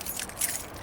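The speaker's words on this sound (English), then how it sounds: "Arnie tosses Leo his car keys. Leo catches the keys and holds them up for confirmation." Car keys jangle with a bright metallic rattle as they are tossed and caught, a brief close clink peaking in the middle and then settling, with no voices.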